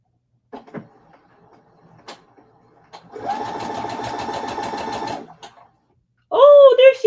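A quilter's sewing machine stitches steadily for about two seconds after being rethreaded, with a brief handling clatter before and a voice speaking just after.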